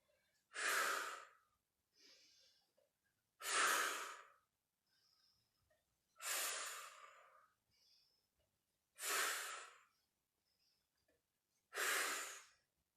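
Slow, deliberate breaths during a beginners pilates class: five strong, airy exhales spaced a few seconds apart, each followed by a softer inhale, close and clear with no talking.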